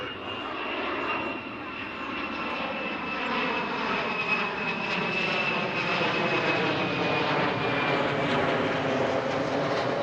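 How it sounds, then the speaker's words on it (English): An airplane passes over a high school baseball game, its engine drone steady and fairly loud for the full stretch, with a thin whining tone riding on top and no talk over it. "Looks like we have another flyover here."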